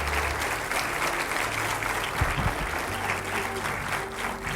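A church congregation applauding together, dense steady clapping from a crowd filling the room for several seconds, with a few voices mixed faintly underneath.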